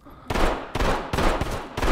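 Rapid gunfire crossfire in the tactical shooter Ready or Not, loud close bursts of shots in quick succession with brief gaps between volleys.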